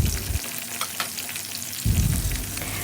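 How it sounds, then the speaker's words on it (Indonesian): Chili and tomato fry together in a pan for rice cooker nasi kuning, a steady crackling sizzle that dips briefly and then swells again with a louder burst of frying. "Lalu cabai sama si tomatnya juga. Ini aku goreng bareng-bareng gitu"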